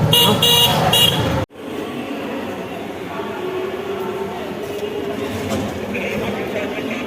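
Rickshaw ride through busy Indian street traffic: a voice talks briefly at first, then an abrupt cut gives way to continuous road rumble with faint distant horns.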